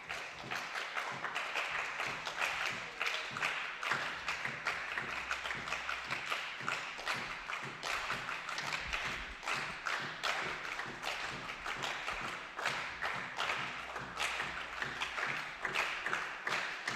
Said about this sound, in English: A round of applause before we continue, come on